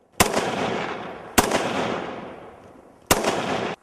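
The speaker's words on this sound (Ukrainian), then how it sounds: "Так стріляє кулемет Форт 401. А це в дії штурмова гвинтівка Форт 221." Three sharp, loud gunshot bursts from a Fort 401 machine gun and Fort 221 assault rifle during weapons testing, spaced over a few seconds, each followed by a long echoing rumble that slowly fades.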